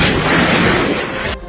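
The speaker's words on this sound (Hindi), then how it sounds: "रेस्क्यू ऑपरेशन के दौरान हुए इस धमाके की वजह से वहां पूरा इलाका थर्रा गया" A powerful blast during a rescue operation in Khan Younis, Gaza, heard as a loud, broadband roar that sustains briefly and then cuts off abruptly, with no voices.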